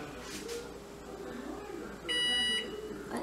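A kitchen timer gives one bright electronic beep lasting about half a second, set while deviled eggs cook in a steamy kitchen, over low room noise.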